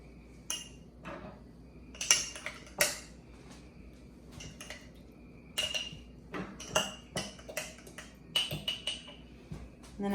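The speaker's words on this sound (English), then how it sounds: "And just mix it around a little bit." A spoon stirring sweetened yogurt in cups makes scattered clinks and taps against the containers, irregular and close, over a quiet background.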